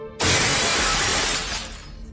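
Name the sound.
mirrors shattering sound effect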